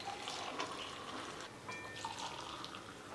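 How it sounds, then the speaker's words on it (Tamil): A thin stream of water splashes and trickles into a container while cooking mushroom biryani, soft and close, with faint clinks along the way. "ரெண்டு கிளாஸ் தண்ணி ஊற்றவும்."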